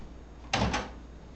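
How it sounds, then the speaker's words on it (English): A microwave door opens or shuts in a home kitchen: one quick, close thunk with a short double-edged click, otherwise quiet room tone. "Okay, I'm going to get these in the microwave."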